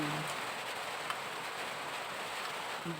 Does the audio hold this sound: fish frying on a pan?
no